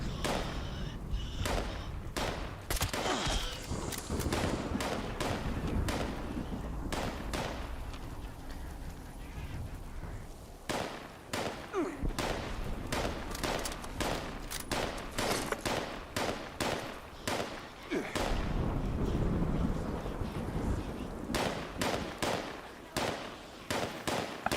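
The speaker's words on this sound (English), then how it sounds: "can hear you shooting." Rapid, loud bursts of gunfire in the online game Fallout 76, with sharp shots and heavy booms cracking one after another in an almost nonstop barrage and no clear talk.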